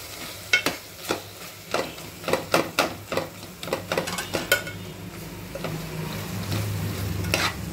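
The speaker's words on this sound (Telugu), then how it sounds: "ఒకసారి మెత్తగా కలిపేసుకోవాలి." A spoon stirs softened, cooked tomatoes in a pot. Distinct scraping strokes come in an uneven rhythm through the first half, then a steady low sizzle takes over, close and fairly loud, with no talking.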